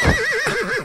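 A horse neighs in the medieval open-world game Rustler, a single close, loud whinny with a wavering pitch that rises and falls over under a second.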